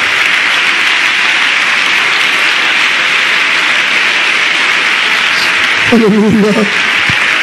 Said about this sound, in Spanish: Aplauda más fuerte la gloria de Jesús